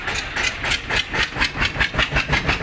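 A three-cylinder Punjabi-market tractor engine runs after starting, its rhythmic, chugging pulse beating steadily and fairly loud, close by and alone.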